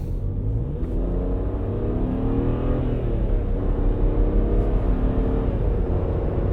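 A turbocharged BMW 335i's engine revs up with a loud, rising roar as the car accelerates hard, heard from inside over a heavy low rumble.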